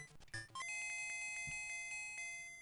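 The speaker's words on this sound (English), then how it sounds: "That might be the easiest gold bell to hit in the whole game." A gold bell in the Super Mario Land 2 video game is struck, giving a short flurry of chiptune notes and then one bright, sustained ringing chime that slowly fades.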